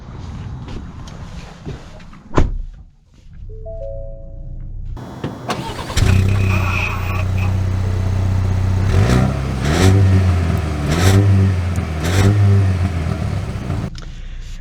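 A 2023 Ford Maverick Tremor pickup engine cranks and catches after a brief pause, then settles into a steady idle and revs in several rising pulses as it pulls away, close and loud throughout.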